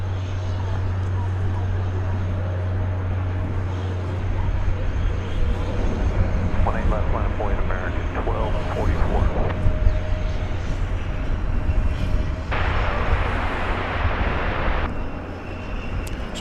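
An American Airlines jet departs DFW Airport as flight 1244 bound for Denver, its engine roar a steady broadband rumble throughout with a louder hiss building late, mixed with background chatter and ambient noise.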